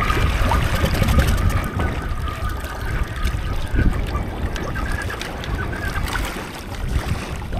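Water churns and splashes continuously as a Can-Am UTV drives through a lake, with waves breaking in a loud, dense wash that stays steady throughout.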